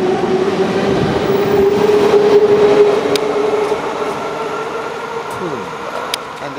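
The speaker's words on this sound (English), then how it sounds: "And if you get the angle, you can just get the train going off in the distance" A train in Tumba, Stockholm pulls away and rumbles steadily into the distance. The loud rolling noise with a sustained tone slowly fades, and a brief rail squeal follows.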